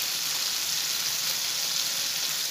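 Ground cumin and coriander powder hit hot oil in a frying pan while cooking tengra fish dopiaza, giving a loud, dense, even hiss of sizzling that holds steady throughout, alone and close.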